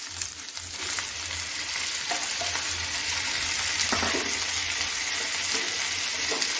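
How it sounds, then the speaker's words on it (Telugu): Tomatoes frying in hot oil in a pan, a bright continuous sizzle that holds steady throughout with faint stirring underneath, no voices. "ఇప్పుడు అందులోకి టొమాటో వేయండి."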